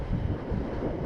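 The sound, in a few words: wind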